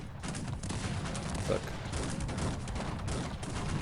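Artillery firing in the real-time strategy game Cossacks 3, a dense, continuous rumble of cannon and musket volleys layered into a steady battle din, with someone talking over it.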